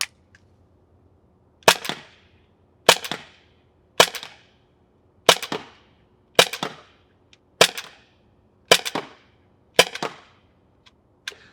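Eight sharp, snappy shots from a T4E Glock G17 Gen 5 .43 caliber paintball pistol, fired one at a time at a steady pace about a second apart, each a crisp pop with a short ringing tail, close by and loud.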